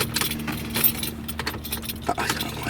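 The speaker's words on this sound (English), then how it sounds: "Alright, so key in the ignition." A key slides into the ignition of a 1993 Ford F150 SVT Lightning pickup, giving a few close metallic jingles and clicks from the key ring over a quiet cabin hum.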